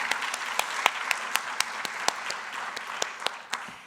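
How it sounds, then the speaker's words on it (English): An audience at an evening honors event applauding the host, a dense burst of clapping from a sizable crowd with a few sharp standout claps, steady throughout and without talking. "Let's give her another big round of applause"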